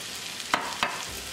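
Potatoes and kasuri methi being stirred in a pan, two quick spoon scrapes over a faint low sizzle.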